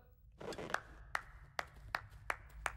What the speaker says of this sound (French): Une bonne main d'applaudissements pour Nalapape